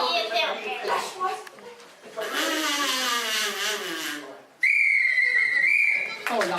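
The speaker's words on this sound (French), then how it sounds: "l'arbitre vient de siffler une faute de hors-sujet aux deux équipes" A referee's whistle blasts loudly as a long, steady shrill tone near the end, following lively talk and background noise, with voices heard around it.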